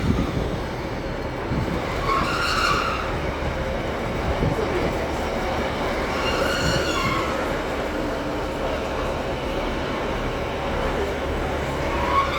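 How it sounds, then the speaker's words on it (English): A train pulls into Blaydon station with a steady rumble of wheels and carriages, two brief squeals rising over the rolling noise, and voices faintly heard in the background. "this is a normal train coming in"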